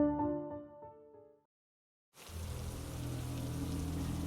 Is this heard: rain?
yes